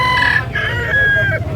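Rooster crowing loudly and close by among the chicken stalls at Carbon Market in Cebu, two or three drawn-out crow calls over a low market murmur.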